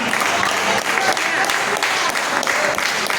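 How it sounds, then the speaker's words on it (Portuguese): Church congregation at Igreja Apostólica Deus Proverá applauding after a sermon, a loud, continuous wash of many hands clapping at once, steady and full throughout. "Glória a Deus, aplauda, Senhor,"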